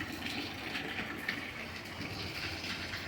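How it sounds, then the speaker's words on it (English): Water in a flooded boiler room makes a steady, continuous splashing and trickling wash at moderate volume, with no distinct separate drips. "Got water dripping."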